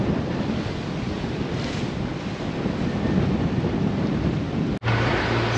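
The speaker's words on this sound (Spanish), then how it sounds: "está soplando mucho viento" Strong wind of about 22 to 23 knots roars steadily across an open microphone at sea, with rain and rushing waves underneath and a brief dropout near the end.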